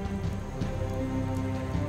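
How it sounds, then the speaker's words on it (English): Rain falling on the African savannah, a soft, steady patter of drops on the ground and vegetation, faint and continuous with no voices. "Finally, rain."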